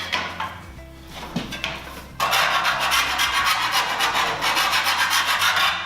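A tool is rubbed back and forth along the cut edge of a 4 mm metal tray, a close, loud rasping scrape in quick repeated strokes after a few quieter scratches.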